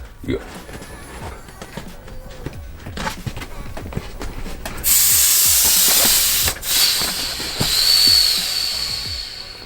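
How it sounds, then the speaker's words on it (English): Air hisses loudly out of a sneaker storage capsule in a sustained burst lasting several seconds, preceded by handling clicks and a nearby voice talking. "this is going to push all the bad air out, all the moisture"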